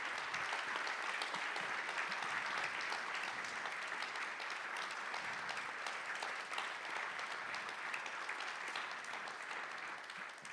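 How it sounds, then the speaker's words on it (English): Sustained applause from a conference audience at Pragma Conf 2025, dense and steady clapping from a crowd filling the whole stretch without pause, fairly even in loudness and tapering slightly at the end. "the two little girls clapping in their hand as much as they can"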